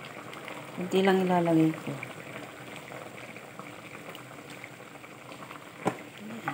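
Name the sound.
chicken curry boiling in a pot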